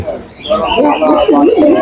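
A flock of cockatoos at a zoo calls in overlapping, rising and falling cries, a steady busy chatter throughout.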